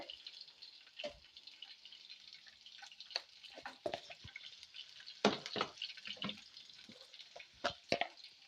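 Small bitter gourd pieces fry in a pan for a spicy pickle, giving a faint, crackly sizzle with scattered pops and occasional stirring clicks, no voices.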